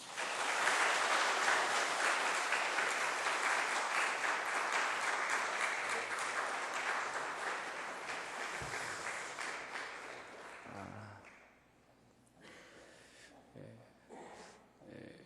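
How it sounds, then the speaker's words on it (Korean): A church congregation applauds during a Sunday worship service, steady and loud for about ten seconds before fading. A few scattered claps follow, and a voice speaks near the end. "큰 박수 한번 해주십시오"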